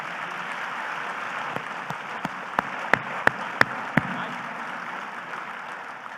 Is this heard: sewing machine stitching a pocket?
no